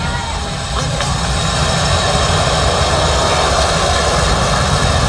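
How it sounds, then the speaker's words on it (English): A Falcon 9 rocket ignites and lifts off at Cape Canaveral, its engines producing a loud, steady, broadband roar that swells in the first second and then holds unbroken, heard from a distance. "9, 8, 7, 6, 5, 4, 3, 2, 1, 0. Ignition."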